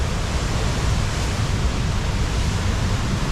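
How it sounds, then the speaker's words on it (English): Small waterfalls spill down rock slides along a trail, a steady, dense rush of water that fills the scene with no voices. "there's like little miniature waterfalls all over along these rock slides on the side"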